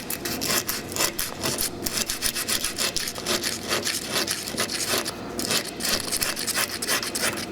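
Continuous rough scraping and rasping against a rear-view mirror mount as its surface is roughened for better adhesion, steady rhythmic strokes, close and fairly loud, no talk.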